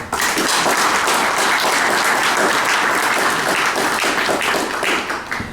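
A seminar audience of building-services engineers breaks into steady, dense applause that stays loud and even for several seconds, with no speech over it, before easing slightly at the end.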